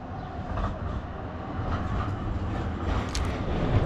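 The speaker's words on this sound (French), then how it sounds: "Tram." A tram rolls past on a street in Zurich, a steady, fairly loud rumble of wheels and motor with faint rattles and a brief high squeal near the end, and no talking.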